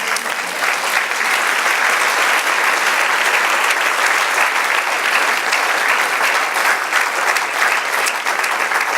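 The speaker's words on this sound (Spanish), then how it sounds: "Dale un aplauso al Señor." A church congregation gives sustained applause during a Spanish-language sermon, a dense, even wash of many hands clapping that continues steadily without a break.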